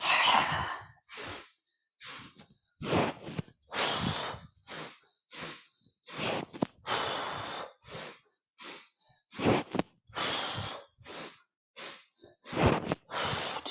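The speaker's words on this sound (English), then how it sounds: "Back to inhale, inhale." Deep, forceful breaths in and out during a breathing exercise, repeated in a steady rhythm with short pauses between each airy inhale and exhale, close and alone.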